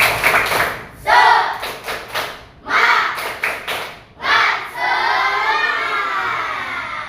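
A classroom of schoolchildren performs a rhythmic chant-clap, repeated groups of sharp, close claps in patterned bursts with pauses, ending in a sustained stretch of cheering voices.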